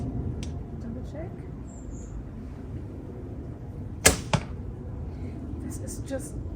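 A single arrow shot from an AF Archery SiCai bow gives a crisp, sharp release crack and a quick second thud, set against a constant low background drone of nearby airport aircraft.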